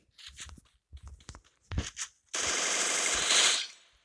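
Rapid gunfire in a mobile shooter game, seemingly Brawl Stars, opens with several short separate shots and then turns into a loud sustained automatic burst near the end.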